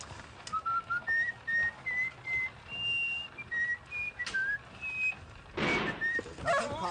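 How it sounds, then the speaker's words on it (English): A person whistles a simple melody, the clear tones gliding between held and rising notes with brief gaps, fairly close, with a short burst of noise near the end. "Whistle it."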